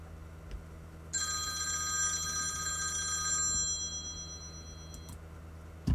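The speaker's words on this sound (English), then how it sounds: "Sorry for the phone call" A telephone bell rings in one sustained, bright metallic trill lasting a couple of seconds, fairly quiet and somewhat distant against a low background hum, then stops with no voices.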